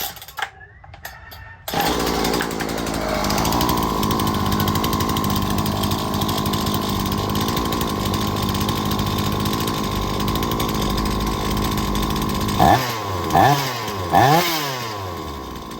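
A chainsaw engine idles steadily and loudly during carburetor adjustment after a brief start-up, then revs up and down in several quick blips near the end.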